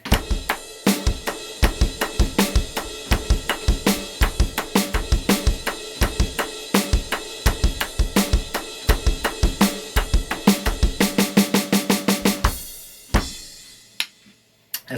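A full drum kit plays a fast, driving double-time groove with steady hi-hat and cymbal hits, loud and close, then stops with a ringing crash fading out.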